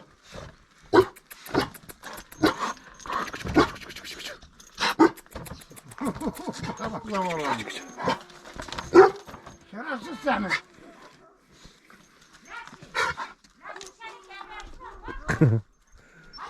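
A dog pants and barks intermittently nearby while people talk over it, with short bursts of noise scattered throughout.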